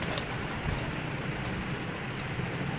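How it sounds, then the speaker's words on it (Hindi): Pigeons coo softly beneath a dense, steady rustle of wings and pecking at grain. "इस वक्त कबूतर दाने के ऊपर टूट पड़े हैं जी"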